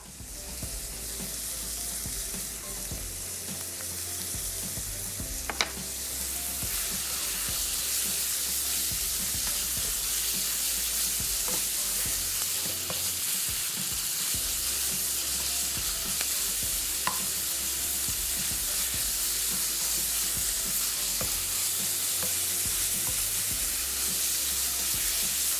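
Chicken shawarma pieces fry in a hot pan while being stirred quickly, producing a loud, continuous sizzle and hiss with occasional scraping clicks of the utensil, and no talking.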